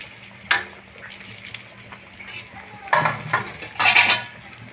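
Fried fish pieces dropped into a boiling cauliflower and potato curry: a few clattering, stirring bursts over a low simmer, close by, without speech.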